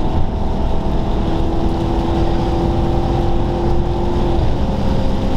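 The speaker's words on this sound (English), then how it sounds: "that wind noise you can hear is annoyingly because this window doesn't quite close properly" Loud, constant rushing wind roar leaking through a badly sealing window of a Maserati Quattroporte cruising at around 90 mph in third gear, blended with steady engine drone and road noise and no voices.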